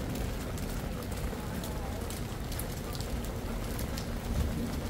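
Steady rain falls on a street in Incheon's Chinatown, a soft, even hiss of drops on surfaces that holds constant throughout with no other distinct sounds.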